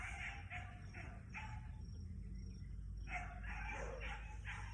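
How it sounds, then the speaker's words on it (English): Several dogs bark in bursts outdoors at a moderate distance, repeated yaps over a steady background hum, with a short lull midway before the barking resumes. "Well, the dogs are going off."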